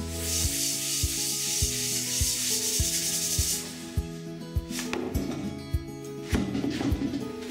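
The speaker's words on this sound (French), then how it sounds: "vous allez donc uniformiser la couche de rouille sur le casque en frottant gentiment la surface" A scraper rubs rhythmically across the rusty steel shell of a Stahlhelm 16 helmet, close repeated scratchy strokes at a steady pace, with a few sharper scrapes and knocks near the end.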